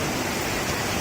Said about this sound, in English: Yeah, it's fairly raining.